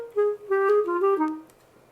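A solo clarinet plays a short band audition excerpt in a quick run of light, separated notes stepping downward, close and moderately soft.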